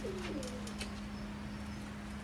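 A pigeon coos softly against a steady low hum, with a few faint chirps from other birds in the background.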